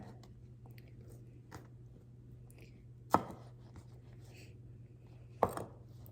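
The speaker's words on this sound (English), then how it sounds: "when chopping this pepper, I'm gonna go ahead and try to get a little bit smaller bits" Knife chopping pepper on a cutting board: a few soft, scattered cuts, then two sharp, distinct chops a couple of seconds apart, with no talking.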